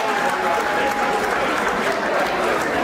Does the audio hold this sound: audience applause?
yes